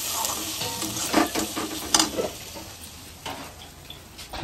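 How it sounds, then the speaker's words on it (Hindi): Masala sizzling in a hot pan on a home kitchen stove, with a spoon scraping and stirring in irregular strokes over a steady frying hiss, close and clear with no talk. "तो मसाला फ्राई हो जाएगा।"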